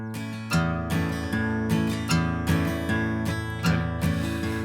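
Steel-string acoustic guitar plays a strum pattern, single bass notes alternating between fifth and sixth strings followed by down-up strums, a steady bouncing rhythm, close and clear with no talking.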